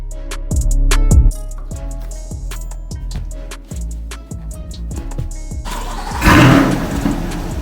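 A 2023 Chevrolet Corvette C8 Z06 engine cold start: it cranks in rapid repeating bursts, then fires up with a loud roaring rev that settles into a throaty idle, close and loud.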